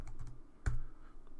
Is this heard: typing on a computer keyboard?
yes